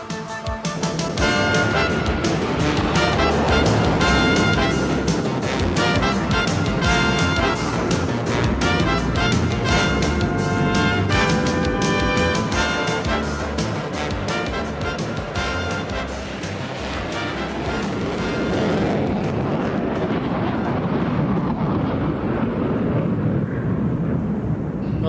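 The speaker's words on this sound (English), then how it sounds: "Many times this is how it starts, with the thunder of afterburners echoing through snow-laden valleys." F-15 fighter jets of the 21st Tactical Fighting Wing roar on afterburner in snowy Alaskan valleys, a loud, continuous thundering rumble with crackling bursts that holds steady and then eases slightly toward the end.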